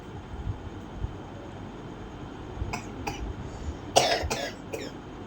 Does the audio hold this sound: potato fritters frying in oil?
no